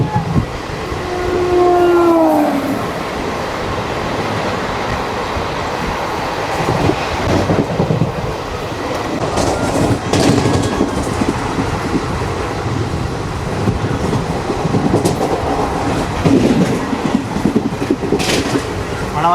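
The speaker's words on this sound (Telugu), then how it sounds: "మన ఎదురుగా చూసుకుంటే కోయంబత్తూరు నుండి చెన్నై సెంటర్ వెళ్ళే శతాబ్ది ఎక్స్ప్రెస్ వెళ్తుంది" A Shatabdi Express running from Coimbatore to Chennai passes alongside, a steady rumble of wheels and carriages lasting throughout, with a brief horn-like tone near the start.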